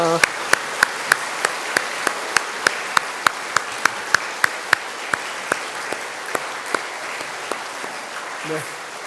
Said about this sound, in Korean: 다른 분들도 우리 어르신분들 바라보면서 감사의 박수 한번 하겠습니다